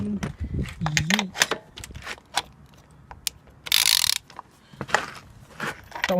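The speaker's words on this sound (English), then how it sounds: "Ratchet there for a sec." Ratchet wrench clicking in short bursts while removing spark plugs on a Honda VFR750 or Suzuki GSX750F motorcycle, with a metallic rasp partway through and someone talking between the clicks.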